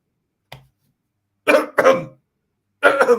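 A person imitates coughing, mimicking a wrestler choking on a microphone: one small throat catch, then two rough coughs, a pause and a final cough, close and loud with no other sound.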